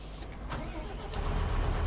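A tractor engine in Farming Simulator 25 hums steadily at a medium pitch, a continuous low drone that swells slightly toward the end.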